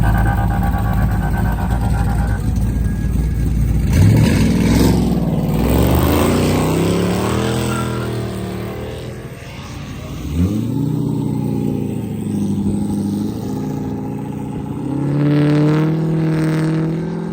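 A car roars past in a flyby at a car meet, the engine revving hard and climbing in pitch, then a second loud run and more revving. The sound is close, loud and dominant, and no one speaks.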